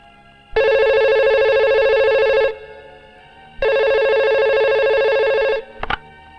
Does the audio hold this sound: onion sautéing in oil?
no